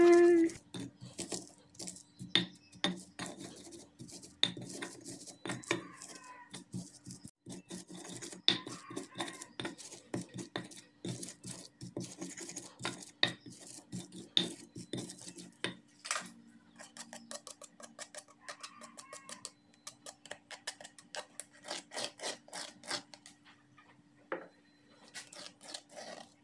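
Chili and salt ground into a paste by hand, likely with a mortar and pestle, producing a long run of quiet, rapid tapping and gritty scraping strokes, close and steady without talk.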